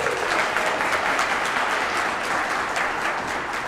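An audience at a Teacher of the Year ceremony gives loud, sustained applause, a dense, even wash of clapping from many hands that holds steady throughout with no speech over it.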